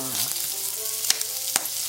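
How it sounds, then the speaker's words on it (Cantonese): Large prawns sizzling steadily in a hot pan with a light sprinkle of salt, a continuous close frying hiss broken by two sharp utensil clicks. "將兩邊咧再煎一煎翻香一少少啦"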